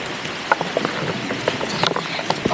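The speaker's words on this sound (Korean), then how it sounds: "우박 맞는 거냐고" Hail falling outdoors during gold panning in rain, scattered sharp ticking impacts against a steady hiss of rain, with irregular clicks spread across the clip.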